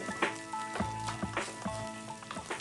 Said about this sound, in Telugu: బాగా వేయించుకోవాలన్నమాట అంతే